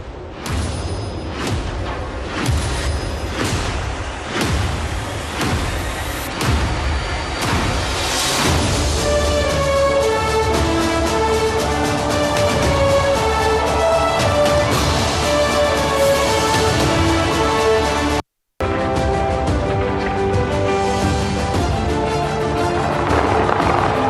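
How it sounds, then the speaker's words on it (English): Traditional New Year fireworks over Sydney Harbour, welcoming 2024: a string of loud booms and crackling bursts at first, then layered music carrying over continuous festive noise, with one brief dropout near the end. "images of the traditional fireworks display over Sydney Harbour"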